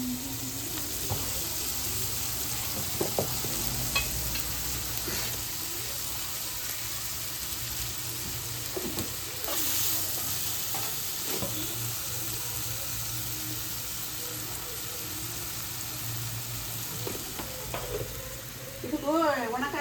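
Chopped onions fry for a North Karnataka-style palya in a pan, a steady close sizzle with stirring scrapes while a voice talks over it.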